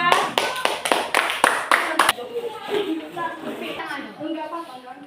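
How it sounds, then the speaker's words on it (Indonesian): Schoolchildren in a classroom clap in a quick, crisp rhythmic pattern of about eight sharp claps for a student group during a project-based lesson, then stop as a teacher's voice carries on talking. "tepuk tangan untuk kelompok 2"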